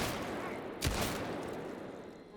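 A single loud shotgun blast goes off in the zombie shooter No More Room In Hell 2, one sharp report with a short tail over steady background game noise.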